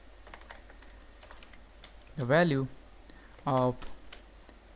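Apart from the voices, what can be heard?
typing on a computer keyboard, writing C code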